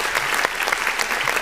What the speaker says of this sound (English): We got to clap for her.